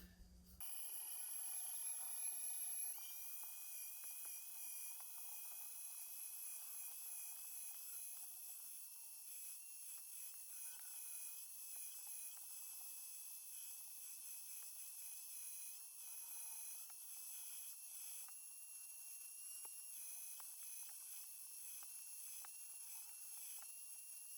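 An electric meat grinder runs steadily, pushing pork through a fine grinding plate for sausage, with a continuous high motor whine and hum that stays fairly even and close throughout, no talk.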